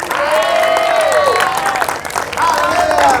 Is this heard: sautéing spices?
no